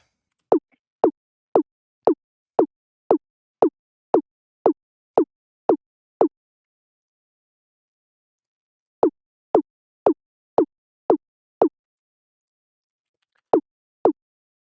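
Dry, punchy snare drum hits struck alone in a steady even rhythm, a run of twelve, a pause, a shorter burst of six, then two more.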